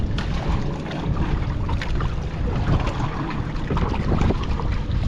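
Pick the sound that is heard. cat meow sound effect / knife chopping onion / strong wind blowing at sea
strong wind blowing at sea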